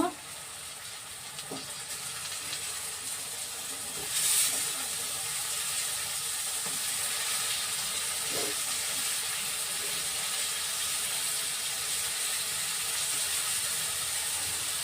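Lotte fish sizzle in a frying pan in a village kitchen, a steady broad hiss running throughout with a brief louder surge partway through.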